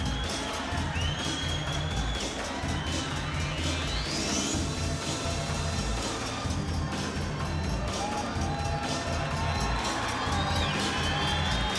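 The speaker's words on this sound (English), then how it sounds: "The crowd cheering, the crowd literally on their feet behind me." A packed arena crowd cheers and roars continuously after an MMA bout at a BAMMA 22 preliminary event, a dense, sustained wash of shouting and whooping with no breaks throughout.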